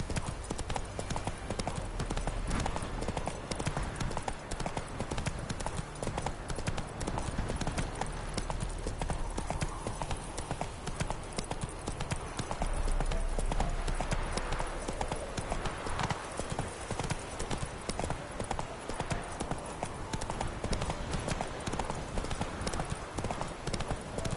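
Roach the horse gallops hard in The Witcher 3, a loud, dense and continuous drumming of hooves that runs without a break under game sound and occasional voices.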